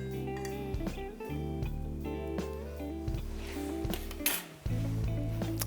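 Orange zest is mixed into a bowl with a utensil, making repeated clinks and knocks against the dish over a low steady hum, with a brief sharp clatter near the end.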